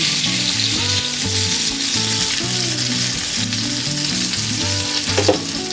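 Stuffed pomfret fish frying on a flat tawa, a loud, steady sizzle running throughout with a low melodic hum beneath and a brief scrape near the end.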